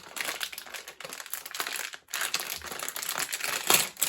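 Plastic and cardboard packaging of a WWE Seth Rollins Ultimate Edition action figure being opened, giving continuous close crinkling, tearing and rustling with short crackly bursts throughout.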